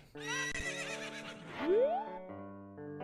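A horse in Zelda: Ocarina of Time whinnies in one loud, close call with a rising then falling pitch over soft background game music.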